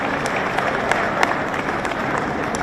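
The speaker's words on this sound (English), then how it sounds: "Give them a round of applause." Summit audience of heads of state and guests applauding loudly and steadily, a dense continuous wash of clapping with occasional sharper claps standing out, close and full throughout.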